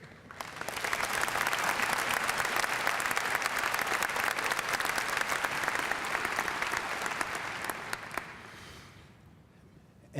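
A 2012 freshman convocation audience applauds to welcome Dean Ed Taylor, with dense, steady clapping that swells quickly, holds for several seconds, then thins and fades out.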